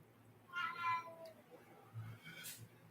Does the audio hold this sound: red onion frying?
no